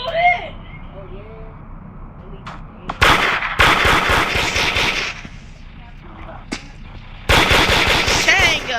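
Bursts of rapid automatic gunfire crackle in a horror video game, loud clusters of shots separated by quieter stretches, with players shouting and talking excitedly over the action.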